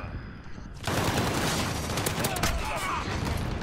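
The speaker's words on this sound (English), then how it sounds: "we're taking fire!" Video game gunfire breaks out after a quieter moment. Dense automatic fire with overlapping shots continues loud and steady, and a voice talks over it.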